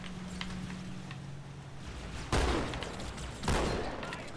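Gunfire in the Halo 2 video game: a low rumble of battle, then two loud broadband bursts of shots, with no talking over them.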